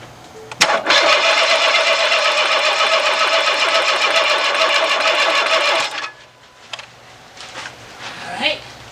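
A Ford EcoSport engine with a new timing belt and oil pump cranks loudly and steadily for about five seconds on a 12-volt supply, a dense rapid churning that cuts off abruptly, leaving faint clicks and shuffling.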